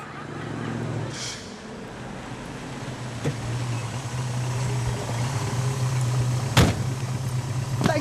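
A car engine idles steadily with a low droning hum, a door-like thump and a sharp click breaking in partway, with a faint voice early on.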